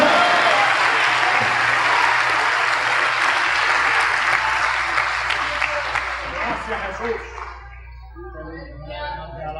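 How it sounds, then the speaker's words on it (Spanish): A church congregation breaks into loud, sustained applause at a Spanish-language evangelical service, the dense clapping thinning and fading over the last couple of seconds. "Denle un aplauso al Señor Jesucristo."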